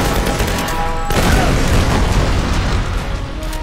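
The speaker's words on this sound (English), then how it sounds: "What do you think throwing a lot of explosives at me?" Explosions and booms in the action game Tomb Raider, dense and loud, with heavy rumbling blasts and some crackling pops rolling on without a break.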